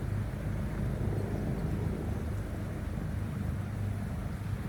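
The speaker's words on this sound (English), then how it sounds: "Excuse the helicopter, but it's passing by." A steady, low rumbling drone of a helicopter passing at a distance, with no voices.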